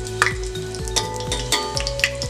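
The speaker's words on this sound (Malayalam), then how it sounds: "ഇനിയിപ്പോൾ ഞാൻ നമ്മുടെ ഹോൾ ഗരം മസാലാസ് ഇട്ട് കൊടുക്കാം" Whole garam masala spices sizzle in hot oil while being stirred, a steady crackling fry with scraping spoon strokes against the pan for a couple of seconds.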